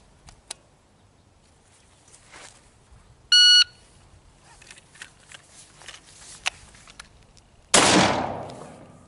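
A short electronic shot-timer beep, then near-silence and one loud, sharp rifle shot fired from a tactical sling carry, its report ringing out and decaying over the final second.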